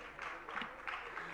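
An audience at a Jain religious discourse gathering claps together, a soft continuous patter of applause heard at a distance and partly under a voice.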